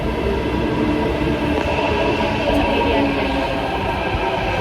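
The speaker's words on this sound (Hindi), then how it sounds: "फिर आ जाएगी मेट्रो" Steady loud rumble of a metro train arriving at a station, with a continuous mechanical roar and faint high squeal, close by and unbroken.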